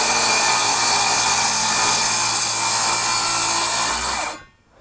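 A power saw cuts through a sheet of plywood, a loud continuous rasping whine held steady for about four seconds before it cuts off abruptly and falls silent.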